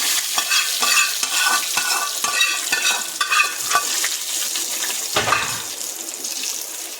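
Hot oil tempering is poured over a yogurt and cucumber raita and crackles in a loud, close sizzle with bursts of popping, then settles into a softer hiss.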